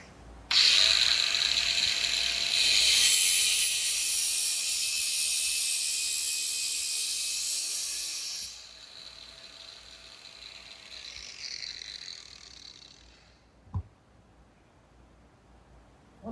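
A power tool cuts through braided Stratoflex hose held in a vise: a loud, high whining cut that lasts several seconds, then a lower fading spin-down, ending with one sharp clack.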